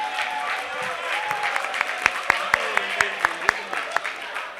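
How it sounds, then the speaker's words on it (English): An audience applauds volunteers at a college marketing conclave, a close crowd of claps with sharp individual hand claps standing out, sustained for several seconds. "Can we please have a huge round of applause for everybody?"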